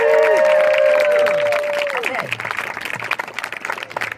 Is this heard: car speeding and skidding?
no